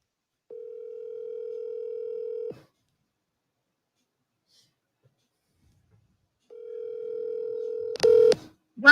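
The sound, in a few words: phone call ringing tone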